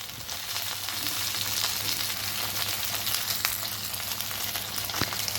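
Green chilies and curry leaves fry in oil in a clay pot on a stove, making a steady close sizzle with scattered pops and crackles and a faint low hum beneath.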